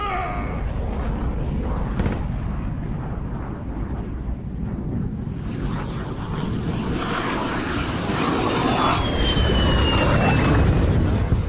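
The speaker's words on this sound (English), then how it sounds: "Attack chopper coming in." An attack helicopter in the video game Call of Duty Modern Warfare flies in amid loud, continuous battlefield rumble, its engine roar swelling over the second half with a rising whine.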